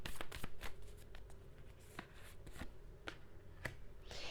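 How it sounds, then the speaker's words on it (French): Tarot cards shuffled and drawn by hand, a close, quiet run of crisp riffling snaps and soft card slides repeating throughout, with no talking. "je peux juste tirer quelques cartes, on va voir l'évolution"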